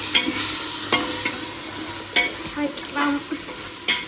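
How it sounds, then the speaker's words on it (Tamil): Masala sautéing in a pan for mutton biryani, a soft sizzle broken by several sharp scraping stirs of a spoon against the metal, close and clear with no talk. "இப்போ நம்ம இதை நல்லா பச்சை வாசனை போக நல்லா வதக்கிக்கலாம்"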